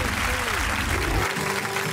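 Audience applause at a live event honoring Moacir Franco: a dense wash of clapping from a crowd, with a brief sliding tone above it and the clapping thinning near the end.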